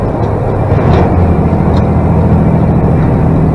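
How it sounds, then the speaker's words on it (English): Loud, steady drone of a truck engine pulling hard while merging onto an interstate in Maine, a constant low rumble with road noise and no voices. "I'm merging in on the interstate. I'm off one interstate onto another."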